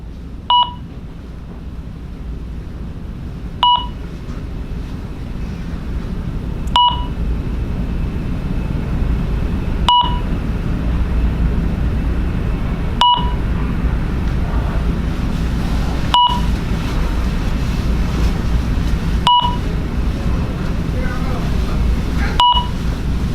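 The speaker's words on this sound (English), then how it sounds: "series of beeps that should last about 60 seconds, giving you enough time to exit the door" An UltraSync security system sounds arm-away exit delay beeps, short sharp chirps repeating about every three seconds, evenly spaced over a low background rumble indoors.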